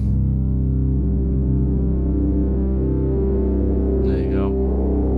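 A deep, sustained Eurorack modular synthesizer drone with layered low tones and a washed-out reverberant tail. A brief brighter swell rises near the end.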